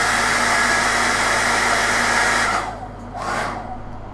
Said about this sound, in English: So let's hit this with a hairdryer.